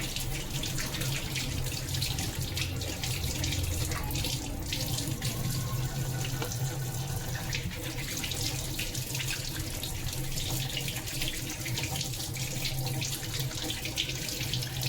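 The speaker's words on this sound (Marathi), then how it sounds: "बांगडे घेतलेत, मस्तपैकी स्वच्छ धुवून घेऊया" Dried mackerel rinsed under a running kitchen tap, a steady close splash of water pouring over the fish into a sink, continuous and unbroken for the whole stretch with no voices.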